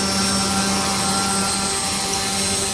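An electric motor on a Super Chipmunk model plane runs continuously at half throttle, a loud, steady whine with a constant high tone and no breaks.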